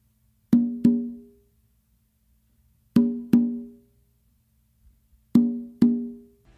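Conga strokes come in three evenly spaced pairs of resonant, booming hits, matching open tones on the tumba played with the non-dominant hand, each pair ringing out briefly before silence, close-miked and alone.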